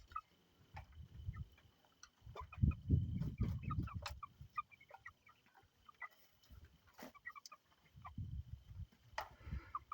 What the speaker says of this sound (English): somebody's learning to crow.